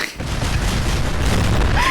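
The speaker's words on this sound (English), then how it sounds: "One gigantic explosion later" Loud, sustained explosive roar as a car blows up in Fallout 4, a dense wash of rumbling blast noise that fills the moment, with a brief rising tone near the end.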